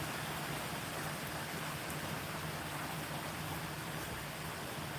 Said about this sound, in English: I don't know if you guys can see the rain, but it's pouring.